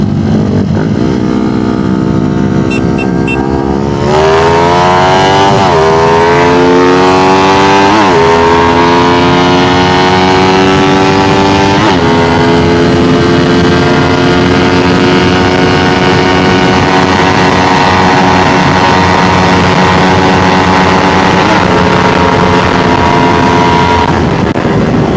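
Two modified motorcycles, a Rusi Flash and a Sniper, race flat out, their loud close engines climbing through repeated gear-shift steps in a steady high-pitched howl with no talk.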